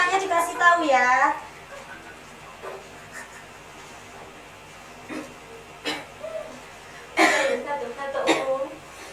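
A few short coughs and throat-clearing sounds come from students in a classroom, scattered among brief murmurs and quiet gaps.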